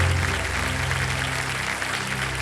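Studio audience on a Hindi quiz game show set applauding, a loud continuous roar of clapping over a low steady hum of stage music, sustained with no voices on top.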